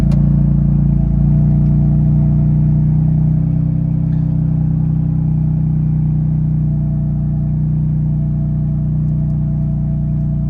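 A car engine starts back up and runs at a steady idle, a low, even hum close by with no talk over it.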